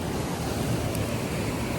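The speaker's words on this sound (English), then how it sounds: "We got the waterfall right beside us." A waterfall at Sunburst Falls roars steadily beside a night campsite: a dense, constant broadband rush that stays loud and unbroken throughout, with no voices over it.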